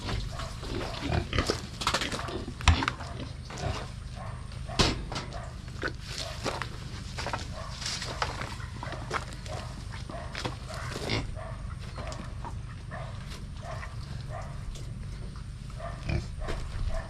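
A native pig being sold for lechon grunts and snorts in scattered short bursts over several seconds, fairly close, against a low, constant background hum.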